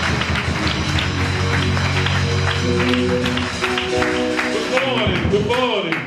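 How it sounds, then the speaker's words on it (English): A Sunday church service congregation claps steadily for the choir, a dense patter of hands mixed with singing and voices, loud and close throughout. "Let's clap our hand for the choir as well."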